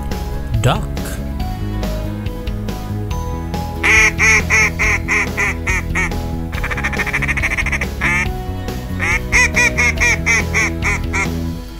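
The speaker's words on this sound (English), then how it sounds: "Duck." A toy duck plays a loud run of rapid recorded quacks in repeated bursts, close and bright, with brief pauses between the volleys.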